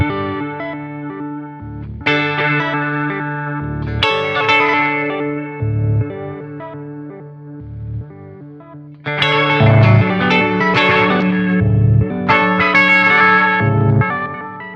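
A Way Huge Supa Puss analog delay pedal repeats guitar notes in shifting rhythmic subdivisions. Sustained tones trail off in echoes that swell and cut off in cycling patterns, loud and alone with no voice.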